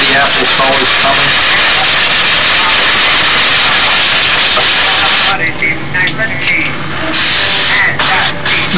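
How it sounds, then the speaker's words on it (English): Sanding along a seam on a model Spitfire fuselage, a steady abrasive rubbing that runs continuously, then turns into shorter broken strokes toward the end, close and fairly loud. "Now see, that seam is sanded now."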